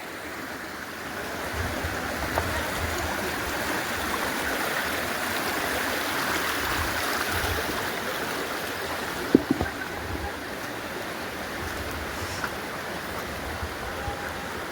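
A village stream in a rocky riverbed rushes steadily over stones, a continuous close wash of water with a few faint clicks and knocks and no voices.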